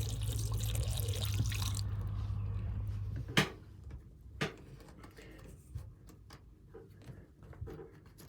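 Water poured into a boat's cockpit drain runs and splashes steadily for a few seconds, then stops, leaving a few scattered drips and small knocks in a quiet space.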